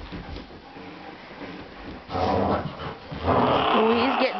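Small dog growling and grumbling close by while being handled and touched under the chin, the sound swelling louder in the second half and overlapping casual talk from people nearby.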